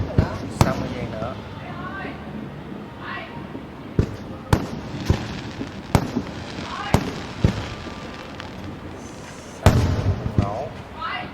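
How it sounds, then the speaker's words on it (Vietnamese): Fireworks burst over Saigon for the 30 April 2025 celebration, sharp booms scattered at uneven intervals among crowd chatter and voices. "Ở trong nghe âm thanh bụp bụp bụp bụp nè"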